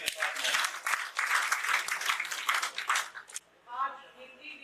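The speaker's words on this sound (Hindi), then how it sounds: "अभिनंदन, जोरदार तालियों के साथ।" A crowd at a Hindi Day ceremony in Patna applauds steadily for about three seconds, dense clapping from many hands, then it fades and a voice begins speaking.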